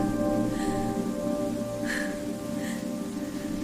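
Steady rain falls as an eerie effect in a horror narration, a dense continuous hiss over a low droning bed, with a few brighter splashes and tones rising through it.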